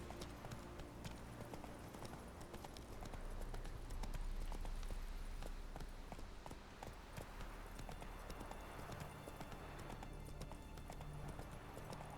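Horse hooves gallop in a steady clip-clop rhythm throughout The Witcher 3 gameplay, loud and continuous over ambient game noise, with occasional faint whinny-like sounds.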